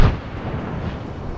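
A frag grenade explodes in Apex Legends: one loud, low boom at the start that rolls into a long, rumbling decay with scattered distant crackle, no voices.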